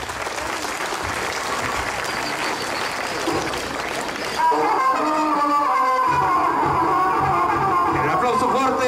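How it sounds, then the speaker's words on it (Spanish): Strong, continuous crowd applause rises at an outdoor school anniversary celebration for a youth folk dance group, then gives way midway to someone speaking over a loudspeaker with lingering crowd noise. "El aplauso fuerte para estos jóvenes."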